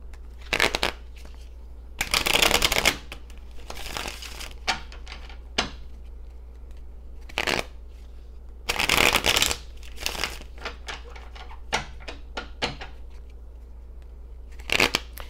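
Tarot cards are shuffled in several separate bursts of quick riffling and papery crunching, close and crisp, with small taps and shuffles between the bursts and no voices.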